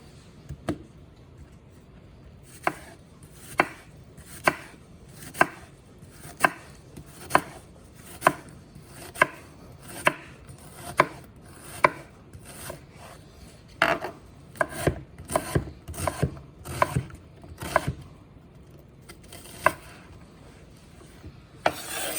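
A knife chops a whole onion on a cutting board in a rhythm of sharp, distinct knocks that quickens into a denser burst midway, then slows again, close and clear with no talking.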